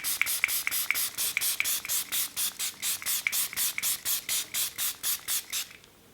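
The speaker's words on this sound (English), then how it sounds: "let me just do a test spray" A makeup setting spray is pumped onto a face in a fast, even run of about twenty short, close hissing bursts that stop near the end, with no talk.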